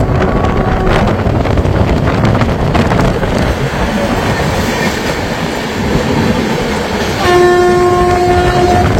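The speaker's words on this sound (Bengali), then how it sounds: "আমাদের ট্রেনের সাথে যে ট্রেনের ক্রসিং হচ্ছে সেটা হচ্ছে SMBT Bengaluru Agartala Indian রেলওয়েজের longest Humsafar express" The Bengaluru–Agartala Humsafar Express, India's longest Humsafar service, thunders past close by on the adjacent track in continuous loud rumbling and wind rush, with a sustained train horn sounding near the end.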